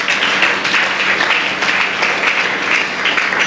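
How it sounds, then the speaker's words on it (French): Congregation at a church deliverance seminar applauding, loud sustained clapping from many hands filling the room throughout, with no break. "Nous acclamons la parole de Dieu."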